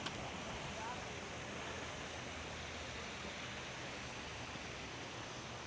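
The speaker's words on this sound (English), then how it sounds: "Nice big waterfall and stuff like that." A large waterfall at a display pond by the entrance of a pond and fish shop sends up a steady, broad rush of falling water that stays close and constant throughout.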